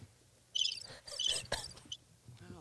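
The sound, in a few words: crickets chirping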